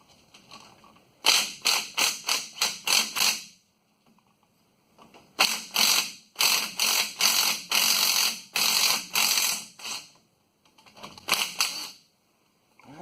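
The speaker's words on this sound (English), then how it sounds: "take these bolts out" Bolts being removed from the rear differential of a 1997 Chevy 1500 5.7 with an impact wrench. It gives three close, loud bursts of rapid rattling hammering, with short silent gaps between them.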